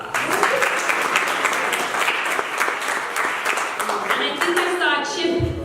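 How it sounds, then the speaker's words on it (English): Crowd at a grand opening event applauding a guest: continuous dense clapping, loud and full, holding steady for several seconds before thinning slightly at the end. "Let's give her a round of applause"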